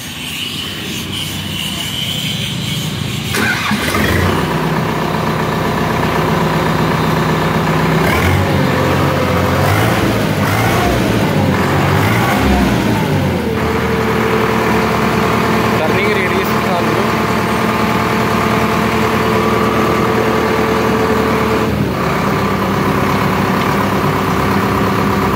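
A Preet 6049 tractor's diesel engine, 2022 model, cranks and catches, then settles into a loud, steady idle that carries on throughout.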